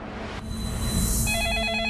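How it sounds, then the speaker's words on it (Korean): A telephone rings indoors in a drama scene: a low background hum gives way to a loud, steady electronic ringing tone that continues alone, with no talk. "네, 전화 받았습니다."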